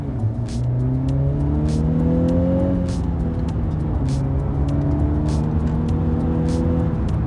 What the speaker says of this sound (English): I like the way the car sounded when driving